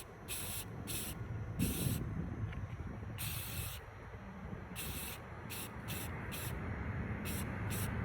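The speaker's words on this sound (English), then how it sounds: "first I spray paint it, and I use the flat matte primer" Short bursts from an aerosol can of flat matte primer hiss again and again, in irregular on-off pulses, while faint background noise carries on between them.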